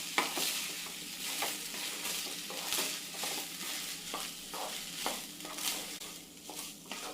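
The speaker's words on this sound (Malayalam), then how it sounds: "ഇനി ഒന്ന് ഇളക്കി കൊടുക്കാം." Rice being stirred in ghee in a pan for ghee rice, with a soft steady sizzle and repeated scraping strokes of the spoon at an irregular rhythm, close by and without talk.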